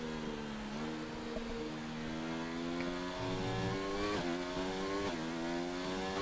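A race car engine screams through a hot lap at a Spain circuit in a racing video game, its loud high-revving note climbing steadily, with sharp shift drops near turn 13, running continuously with no talk.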